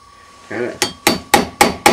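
A chisel is hammered into the wood of a door frame to fix a misaligned lock, with four sharp, evenly spaced strikes ringing out close and loud after a short muffled scrape.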